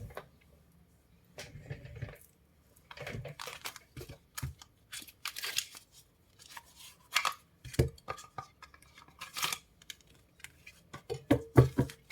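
Oracle cards being picked up, handled and shuffled nearby, a string of irregular papery rustles, flicks and soft taps that grow busier and louder toward the end, with no talking.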